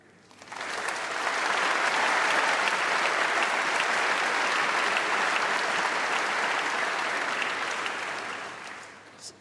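A hall full of graduates and families at a University of Birmingham summer congregation breaks into sustained loud applause that swells quickly, holds for several seconds and fades near the end.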